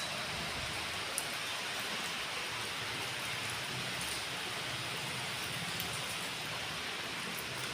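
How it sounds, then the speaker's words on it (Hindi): Steady rain pours down in a dense, even hiss with no pauses, scattered drops ticking faintly on top. "और बारिश भी ठीक ठाक हो रही है"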